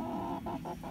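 Chickens clucking nearby in a short burst of soft, repeated clucks over a low background murmur.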